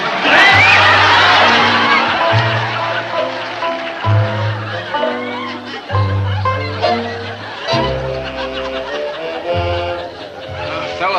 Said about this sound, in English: all you swell folks clapping hands for little old homespun me